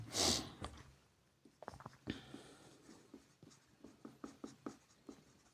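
Pen strokes scratch across paper while an algorithm is written out step by step from a flow chart, short quiet scribbles coming in an uneven rhythm after a brief sniff at the start.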